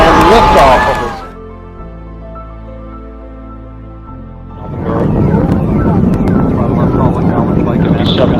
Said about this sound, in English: booster ignition, and liftoff of it.